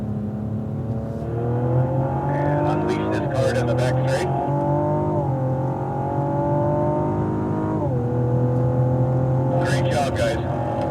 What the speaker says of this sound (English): And unleash this car down the back straight.